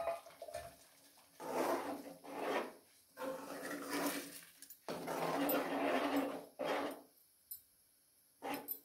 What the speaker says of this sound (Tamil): நல்லா கலக்கிங்க